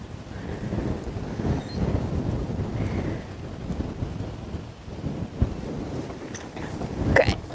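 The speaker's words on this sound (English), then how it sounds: "wind is just howling across this open area" Wind howling across an open savanna at sunrise during a safari game drive, a steady rumbling buffet on the microphone with gusts rising and falling throughout, no other sound standing out.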